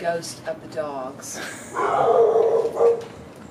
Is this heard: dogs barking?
yes